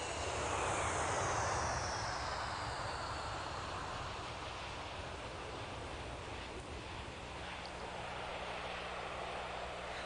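Steady, loud roar of a passenger airplane's engines, continuous broadband noise with a slowly shifting whine and no pauses.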